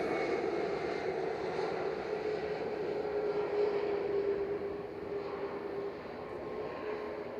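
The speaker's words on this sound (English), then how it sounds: "SAS 541 coming in from Copenhagen. It's SIA, ELA-SIA, A320 Neo." An SAS Airbus A320neo arrives from Copenhagen at Manchester Airport, its engines a steady, moderately distant roar that holds evenly throughout without anyone speaking.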